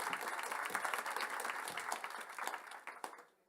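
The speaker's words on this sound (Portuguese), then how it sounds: "quero que vocês recebam com aplausos Luiz Sacuda." Audience at a careers networking panel applauds a moderator being welcomed, a dense sustained clapping that stays steady and fairly loud before tapering off toward the end.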